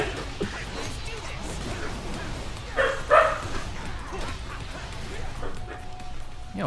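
Dogs bark and yip in the game TMNT: Mutants in Manhattan, a short burst of sharp canine calls in the middle, mixed with game noise and voices talking.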